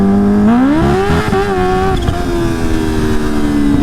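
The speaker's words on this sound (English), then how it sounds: "I'm going to warm my tire up real quick" Kawasaki Ninja H2 motorcycle revving hard to warm its tire, a loud close engine note that climbs steeply and then holds a high sustained whine for a few seconds.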